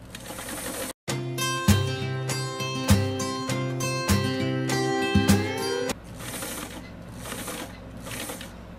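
A sewing machine top-stitches pants, running in a steady rapid mechanical rattle for about five seconds after a brief start, with thumping stitch beats, then stops into quiet room noise.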